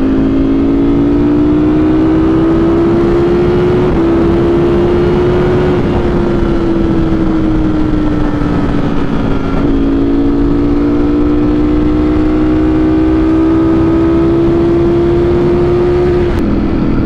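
A Ducati Streetfighter V4S motorcycle engine runs steadily and loudly up close, its tone gently rising and falling as revs shift, with no talk over it.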